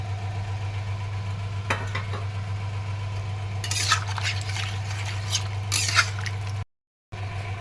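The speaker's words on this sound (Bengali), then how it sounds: "এরপর আমি এর মধ্যে ক্যাপসিকামটাও ঢেলে দিলাম।" Capsicum poured into a pan for a paneer curry and cooking, with a soft sizzle and scraping stirs over a steady low stove hum; a few clinks of utensils and a brief gap near the end.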